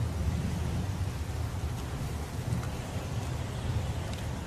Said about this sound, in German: Es regnet wie aus Eimern.